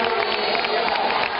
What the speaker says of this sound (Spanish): el ciclón de Jerez recibe la ovación de un público entregado